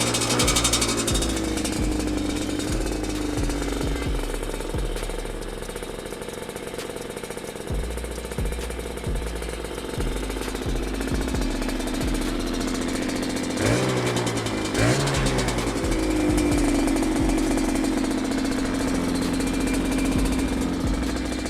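A 1992 Yamaha Banshee two-stroke ATV engine runs loud and close with a rough, rattling idle and uneven revving, a brief rising rev near the middle, continuous throughout.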